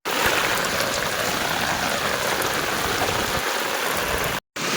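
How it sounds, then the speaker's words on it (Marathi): Floodwater in a swollen Konkan river rushes past in a steady, loud broadband roar that holds constant throughout, with a brief dropout near the end and no voices. "खूप पूर आलेला आहे"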